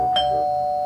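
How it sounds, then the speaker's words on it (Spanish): A doorbell sounds once, a clear electronic chime with a sharp onset followed by a long sustained ringing tone that fades slowly, close and alone. "Timbre."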